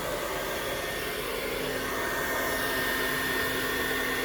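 A hair dryer blows steadily during a round-brush blow-dry, its broadband airflow roar close and constant with a faint motor whine running underneath, no voices over it.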